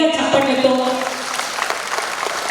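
Clapping rises from an audience at an arangetram dance recital, honoring dance teacher Vanam Kalyani, beginning beneath a voice and then carrying on alone as a brief, moderately loud patter.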